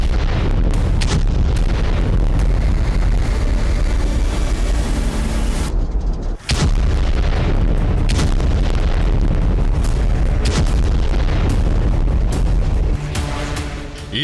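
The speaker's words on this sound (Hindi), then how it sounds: "रूस के बम हमले इतने तेज हैं कि उनके 500 मीटर के दायरे में भूकंप के झटके महसूस हो रहे हैं।" Heavy blasts from Russian bombing in Ukraine, loud booming explosions and artillery-like bursts rolling continuously, with a sharp deep impact near the middle and rumbling reverberation throughout.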